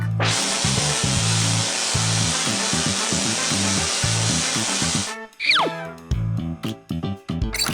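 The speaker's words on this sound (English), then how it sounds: "And now, I'll weld and fix the crack." A cartoon welding effect plays as an animated excavator's crack is fixed: a long, bright, continuous hissing crackle over bouncy background music, then it cuts off into a quick whistling swoop and plucky musical hits.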